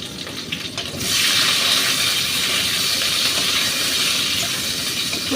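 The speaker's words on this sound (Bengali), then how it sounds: "এবার আমি শিমটা দিয়ে দিলাম।" Flat beans drop into hot oil in a pan, starting a loud, steady hiss of frying that swells after a moment and holds evenly to the end.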